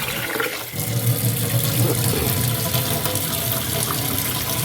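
Tap water runs steadily and fairly loud for a few seconds while rice is washed, a continuous splashing rush with no voices.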